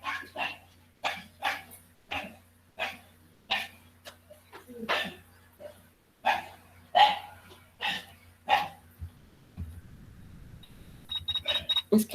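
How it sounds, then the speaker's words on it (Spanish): Dogs bark repeatedly indoors, a steady series of sharp, fairly close barks with short gaps, followed by softer yips and scuffling near the end. "Es que tengo muchos perritos que alborotan a mi perrito."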